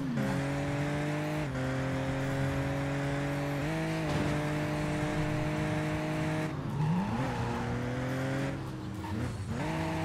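A tuned car in the video game Driver: Parallel Lines drones with a steady engine note that shifts pitch through several gear changes, with brief tire squeals near the end and no talking.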